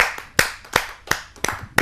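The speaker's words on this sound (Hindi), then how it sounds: "सबकी जोरदार तालियों से" Scattered audience clapping at a Hindi poetry gathering (kavi sammelan), a handful of sharp, separate claps spaced irregularly, loud and close, with no crowd roar behind them.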